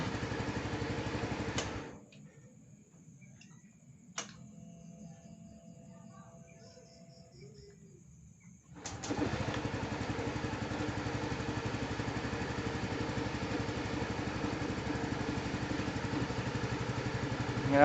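A Yamaha Gear scooter engine runs after a brake switch wire repair, idling steadily up close with a buzzing putter; it cuts out for several seconds, leaving a quiet gap with faint sounds, then restarts and keeps running evenly.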